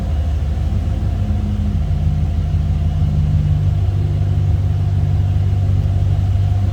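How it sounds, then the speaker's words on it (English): A 1994 Ford F-150 XLT 4x4 Waldoch conversion idles through its dual exhaust, heard from behind the truck as a steady, deep low rumble with no revving and no talk. "That dual exhaust, nice sounding truck."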